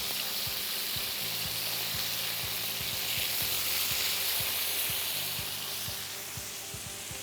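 Fish sizzles steadily in hot olive oil in a pan after being turned, a dense, even crackling hiss with small pops, close and continuous throughout.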